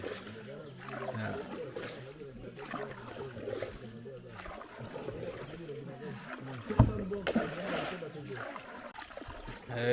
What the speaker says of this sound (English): we are on this boat now, headed to Jolo.